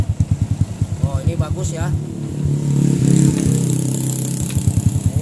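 A Honda Supra Fit motorcycle engine starting and idling close by, a steady rhythmic putter that briefly swells as it revs, with someone talking over it.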